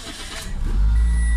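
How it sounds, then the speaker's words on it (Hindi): A 2010 Toyota Corolla with warning lights on is started with the key. A brief crank catches into a loud, steady engine idle close by, with no talking. "ये इसकी चाबी है, गाड़ी स्टार्ट करता हूँ और आपको दिखाता हूँ।"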